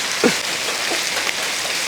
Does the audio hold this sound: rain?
yes